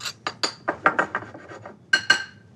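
Seasoned fish being stirred in a bowl with a utensil, giving a string of short clinking and scraping knocks at an uneven rhythm, close up and fairly quiet, with no voices.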